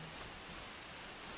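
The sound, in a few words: rain pouring down in the video game Enshrouded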